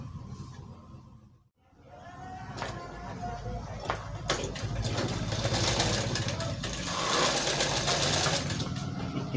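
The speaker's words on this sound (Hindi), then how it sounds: "किनारे का सिलाई मारेंगे" A sewing machine stitches along the edge of a sherwani, a rapid mechanical whirring and clatter that stops briefly, then restarts and runs steadily, close and fairly loud.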